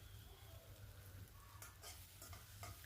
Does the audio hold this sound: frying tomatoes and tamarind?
yes